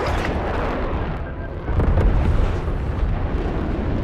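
A Black Ops 6 airstrike drops ordnance, producing a continuous heavy rumble of overlapping explosions that swells in the middle and keeps roaring to the end.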